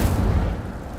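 An Incendio fire spell is cast in a Harry Potter video game: a single short, loud, booming whoosh of flame that fades within a second.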